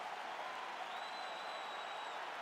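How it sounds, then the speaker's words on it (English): A crowd applauds and cheers between rounds of a UFC fight in a video game, a steady wash of clapping and crowd noise at even volume, with a faint whistle-like tone partway through. "So the crowd voicing its appreciation."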